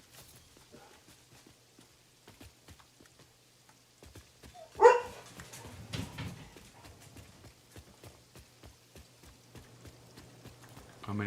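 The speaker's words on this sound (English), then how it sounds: "Somebody closed a door on a car outside, so the dogs are reacting" Dogs barking indoors, reacting to a car door shutting outside, with one sharp bark standing out among scattered quieter barks, scrabbling and thuds across the room.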